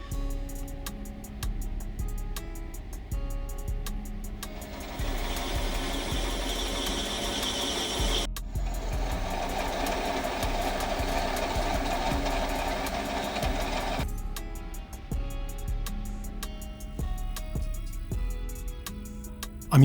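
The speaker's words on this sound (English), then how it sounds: "with the machine running at low RPM and for no more than a few dozen turns, with a gentle infeed, the pattern quickly forms" Sherline lathe running at low RPM while knurling a rope knurl with gentle infeed, giving a steady motor whine and a louder, rough grinding stretch in the middle, no voices.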